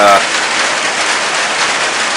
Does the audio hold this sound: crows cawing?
no